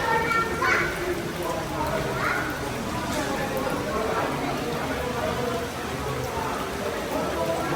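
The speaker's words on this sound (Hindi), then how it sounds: "बहुत खतरनाक बारिश" Heavy rain during Ganesh Chaturthi pours down as a dense, continuous hiss of drops on surfaces, steady and enveloping, with people talking beneath it.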